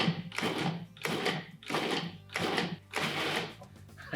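A food processor pulses quartered tomatillos in five short, loud whirring bursts separated by brief pauses.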